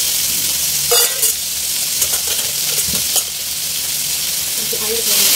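Stir-fried chicken with bell pepper hisses loudly after a little water is added, a dense, close sizzle running throughout with a few clinks and stirring scrapes, no talking.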